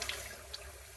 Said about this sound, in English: And then we're going to run a little cold water